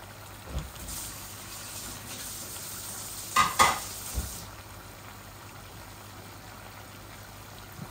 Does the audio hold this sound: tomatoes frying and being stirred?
yes